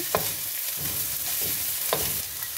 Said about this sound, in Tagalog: Isunod na rin ang mga gulay na naluto na natin kanina at ihalo siya ng mabuti.